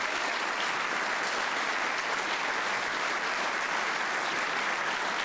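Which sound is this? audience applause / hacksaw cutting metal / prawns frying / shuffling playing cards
audience applause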